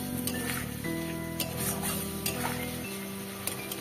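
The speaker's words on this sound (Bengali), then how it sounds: "এবার মশলাটাকে ভালো করে কষিয়ে নেব।" Spice paste cooked with turmeric, salt and a splash of water, stirred in a pan with a constant close sizzle and scraping strokes of the spoon, plus a few light metallic clinks, no talking.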